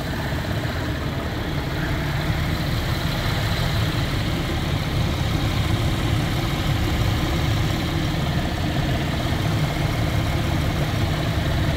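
A GM vehicle's engine idles cold with the radiator cap off while the cooling system is bled, giving a steady, unchanging low rumble that runs close and alone throughout.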